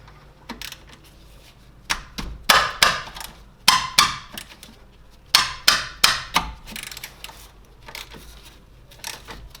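A 12 mm bolt being loosened on a Subaru Forester shock absorber, heard as rapid ratcheting clicks in short bursts with pauses between, close and sharp.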